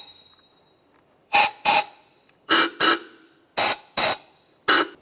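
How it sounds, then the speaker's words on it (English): Compressed air blasts into the intake valve ports of a 1996-2002 Toyota 4Runner engine in seven short bursts, mostly in pairs, sharp loud hisses with quiet gaps between. "Take some compressed air and just where the valves are, just blow it out"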